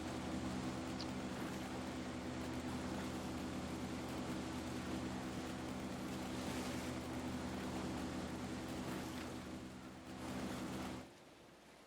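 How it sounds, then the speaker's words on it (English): A jet ski engine in a video game drones loudly and steadily for about eleven seconds, a dense broadband roar with a constant hum, then cuts off abruptly near the end. "That's a loud jet ski."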